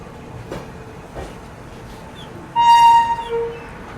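An electric passenger train, the Hasdeo Express behind a WAP-7 locomotive, pulls into Raipur station with low rumbling and a couple of clanks, then a loud, close horn blast sounds.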